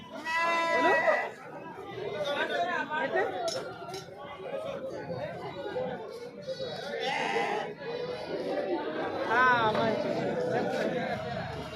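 Several goats bleat repeatedly amid a busy crowd at a goat and sheep market in Bhainsa, with overlapping chatter and occasional clinks of metal in a lively outdoor setting.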